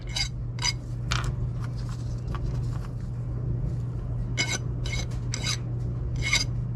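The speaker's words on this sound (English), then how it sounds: "we'll go ahead and get all of these sanded down." Homemade poured hover jig heads being sanded down, a close, steady rasping scrape in repeated strokes over a constant low hum, with no talking.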